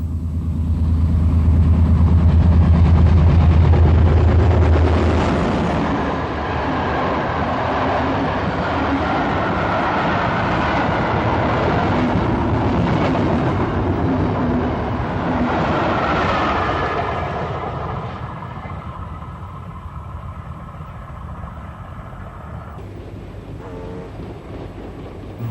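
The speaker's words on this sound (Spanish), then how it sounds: "La serie D445 diésel fue construida por Fiat a partir de 1970." A Fiat D445 series diesel train running on track, its heavy engine rumble loud and steady at first, then a sustained rolling roar with rail clatter that gradually eases and fades toward the end.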